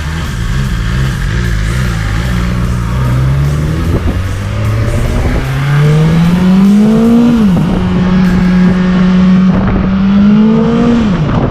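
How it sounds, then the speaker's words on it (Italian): A 2020 BMW S1000 XR motorcycle, rated 165 hp, pulls hard through the gears on a test ride, engine pitch climbing steadily, dropping at a shift, then rising again, loud and close with wind noise. "Davvero un ottimo motore questa moto."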